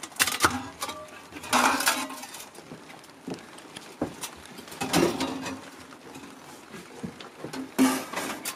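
Metal sections of a compact 3 kW bushcraft wood-burner stove clinking and scraping together as they are assembled, in irregular bursts of light metallic knocks and rattles close by.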